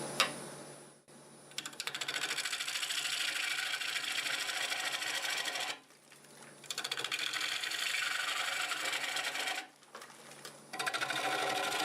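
Wood lathe turning a large walnut slab with a 5/8 swept-back gouge at around 650 to 800 RPM, a loud continuous cutting hiss broken by two brief pauses, with no talking.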